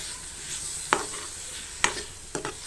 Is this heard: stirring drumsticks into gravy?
yes